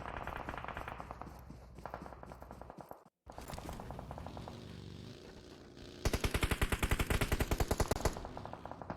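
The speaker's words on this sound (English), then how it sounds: "Oh, up comes the shots there from Linky." Rapid automatic gunfire in PUBG Mobile at a pro league finals match. Bursts of fast, evenly spaced shots break off briefly, then return as a louder, sharper volley near the end.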